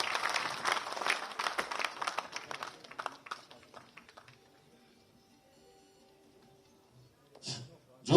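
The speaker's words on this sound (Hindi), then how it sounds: "तालियां बहुत कम हैं" Sparse audience applause at a state-level livestock farmers' award ceremony, scattered clapping that thins out and fades into near silence after a few seconds, followed by a brief faint noise near the end.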